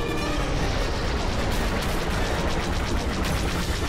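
Cannons fire in a Star Wars Battlefront 2 space battle, a dense continuous barrage of rapid blasts and rumble, loud and unbroken throughout.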